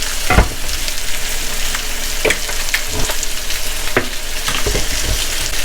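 Chicken thighs for teriyaki chicken sizzle steadily in a hot pan on a stove, a constant close frying hiss broken by several sharp clatters and scrapes of stirring, with no talking.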